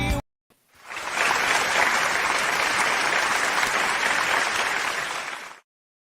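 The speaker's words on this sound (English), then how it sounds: "The crowds are going wild." A crowd breaks into loud, sustained applause and cheering that swells quickly, holds steady for several seconds, then stops abruptly.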